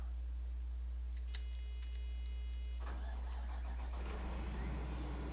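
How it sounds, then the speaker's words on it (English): A forage chopper engine in Farming Simulator 2013 cranks and catches about three seconds in, settling into a steady low mechanical rumble that stays loud and continuous to the end, with no talk over it. "Again, the engine sounds really nice."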